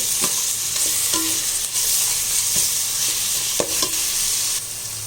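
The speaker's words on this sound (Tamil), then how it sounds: "பச்சை மிளகாவை வெங்காயம் நல்லா வதங்கி வரணும்" Onions and whole green chillies sizzle and crackle in hot oil for a seeraga samba chicken dum biryani, with steady frying hiss and a few scraping stirs of a spoon across the pan, close and fairly loud.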